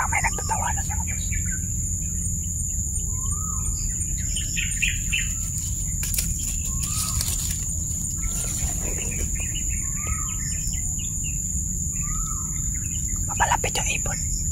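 Short rising bird calls from a horror video game repeat at evenly spaced intervals over a constant hiss and high whine, with scattered clicks and a voice faintly talking in the background.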